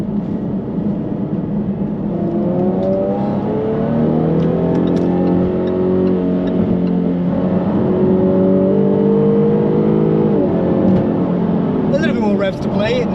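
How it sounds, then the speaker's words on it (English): Jaguar F-Type V6 (X152) coupe revving and accelerating, its engine note rising and falling in continuous sweeps with a supercharger whine layered on top, heard from inside the car at steady loudness with a voice talking over it throughout. "I can now hear the supercharger whine"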